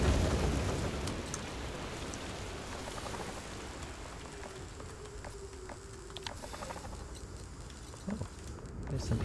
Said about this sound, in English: I think the storm's dying down.